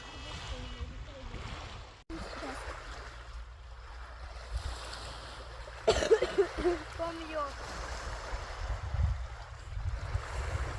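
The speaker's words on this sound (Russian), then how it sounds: "Море тихо, тут можна купатися." Calm Baltic Sea surf on Rügen island washes softly against the shore in a steady low rumble, with a brief splash midway and faint voices in the background.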